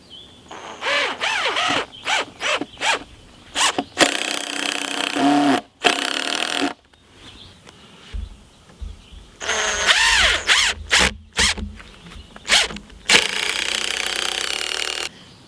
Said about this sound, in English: I'm using 3-inch exterior deck screws to attach the braces